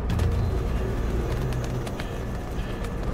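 Pigeons coo softly and steadily in the Financial District of Mirror's Edge, set against a low, constant city rumble with no voices.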